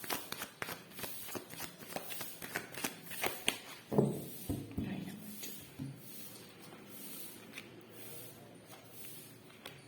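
Tarot cards are shuffled close up in quick, rhythmic riffles for about four seconds, then give way to softer sliding and rustling, all fairly quiet.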